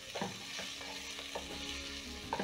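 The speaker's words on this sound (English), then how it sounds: "So in the same oil, I'm going to add in my onions." Onions frying in leftover oil after searing beef short ribs, a quiet, even sizzle with faint stirring scrapes, close but low in level, no talk.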